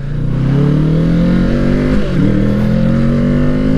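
A 2020 Kawasaki Ninja 650 KRT Edition motorcycle engine revs close and loud, a steady droning note that dips briefly midway and then climbs slightly higher.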